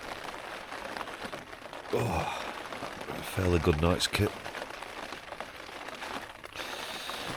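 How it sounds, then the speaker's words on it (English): Steady rain falling outside on a moist morning at a Peak District camp, a constant broad patter running throughout, with someone talking briefly over it. "as you can probably hear with this rain."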